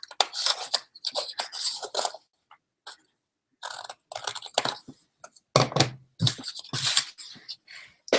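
Card stock for a pop-up holiday card is cut with scissors along a line up to the fold, a close series of crisp snips in short bursts separated by brief pauses, with no talk.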